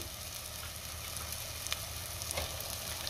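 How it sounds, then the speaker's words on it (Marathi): Mutton pieces go into a pan of frying spice masala, giving a steady, dense sizzle throughout with a few faint clicks and scrapes, no talking. "आता आपल्याला यामध्ये मटण घालायचं आहे"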